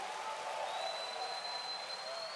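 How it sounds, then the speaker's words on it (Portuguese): Congregation in a church applauding, a soft continuous wash of clapping heard from a distance, with a faint tone above it. "Quem pode aplaudir a Deus e bradar de vitória? Pode ser o melhor aplauso e brados de vitória."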